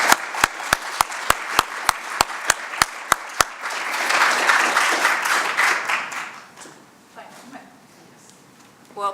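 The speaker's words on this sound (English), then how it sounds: "we owe Cheryl a round of applause" An audience at a gathering breaks into applause after a run of sharp, evenly spaced clicks; the clapping swells for a few seconds and then fades, with voices around it.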